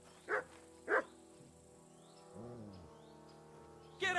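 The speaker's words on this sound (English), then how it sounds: "No one wants to hear your barking." A dog barks several times in the video game Kingdom Come: Deliverance 2, two sharp barks close together, then a pause and another bark, over a quiet ambient background.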